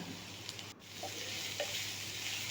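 Onion, green chillies and curry leaves sauté in a pan with a steady, close sizzle, broken by a few soft stirring scrapes.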